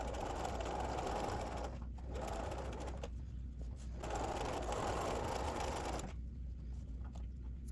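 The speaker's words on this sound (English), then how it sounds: "we're just gonna sew at 1/4 inch" Sewing machine stitching a row of a denim quilt made from jeans and a charm pack, a steady fast mechanical whir running in several bursts with brief pauses between them, close and fairly quiet.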